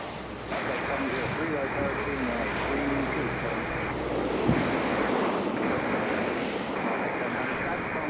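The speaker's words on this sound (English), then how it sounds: "there's our second ATR coming in from Wilmington, North Carolina, out on the coast" An ATR turboprop airliner arriving from Wilmington, North Carolina, hums at a steady moderate level at Raleigh-Durham airport, partly masked by other sound, with a brief thump midway.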